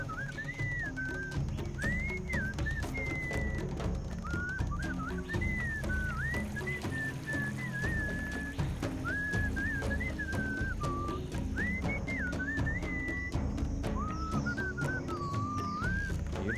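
Melodic whistling in the Sam and Max adventure game, a steady tune of rising and falling phrases carried over a full musical backing with a beat, heard alone throughout.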